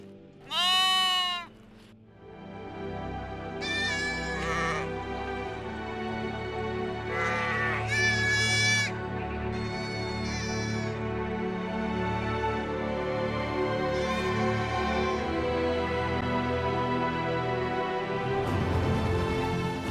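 Nomadic shepherds' flock of sheep and goats in the Uttarakhand hills bleats, with one loud close cry at the start and scattered nearer and farther bleats over a steady outdoor background.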